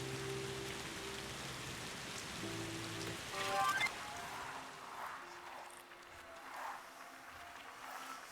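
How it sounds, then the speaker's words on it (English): Rain falling in the video game Closer The Distance, a steady hiss of drops on surfaces with a low hum at the start, a brief brighter chiming burst in the middle, then continuing patter with soft splashes. "we're standing out in the rain"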